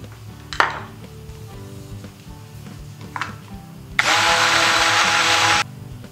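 A blender whirs loudly for about a second and a half, mixing tofu, strawberries, milk and sweetener, after quieter kitchen clinks and taps.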